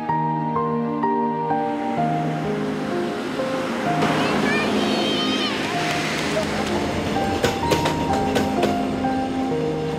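Train rolling along the winding Janghang single-track railway in Korea, a steady rumbling and rattling run with a rising metallic clatter, heard under music and a narrator's voice.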